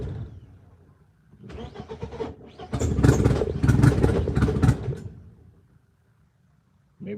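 A BMW E36 with an M42 engine running a Microsquirt ECU starts, catching after brief cranking, then revs loudly for a few seconds while the engine runs rich, before dropping back to a low idle.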